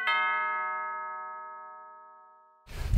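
A single notification bell chime rings clearly, then fades slowly over more than two seconds before a louder burst of other sound cuts in at the end.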